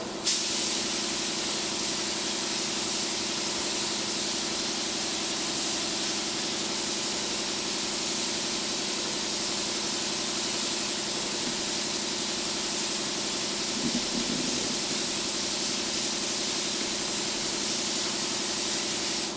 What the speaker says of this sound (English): I'm basically spraying with glue.